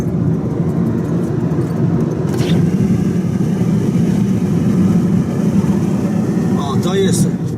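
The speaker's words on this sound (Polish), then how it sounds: "To jest piękne auto, ten Chevy." A Chevy Cavalier passes close by on a road in the USA, a loud, broad engine and road roar lasting several seconds, with a voice speaking over the noise.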